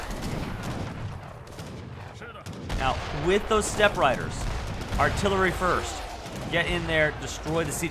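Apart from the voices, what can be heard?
artillery and gunfire in a video game battle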